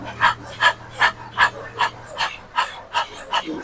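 Several people pant rhythmically with tongues out in imitation of a dog during a breathing exercise, about nine loud, evenly spaced breathy huffs close by over a low steady hum.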